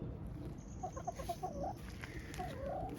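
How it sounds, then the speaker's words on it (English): Two backyard hens cluck in a quick run of short notes close by, ending in a drawn-out squawking call, over a faint outdoor background hum. "there's our 2 hens, and they are happy birds, and they are laying eggs for us"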